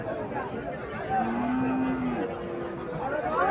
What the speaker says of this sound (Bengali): সার বাছুর এগুলা, সবগুলো সার বাছুর।